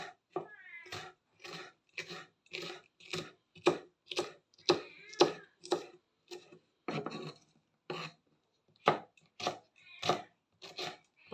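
Sardines are chopped by hand for pickle, a knife striking the board in rhythmic thuds, roughly one or two per second, close and distinct with brief gaps between strokes.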